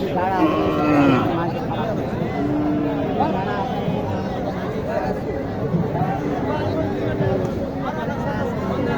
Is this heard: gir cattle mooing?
yes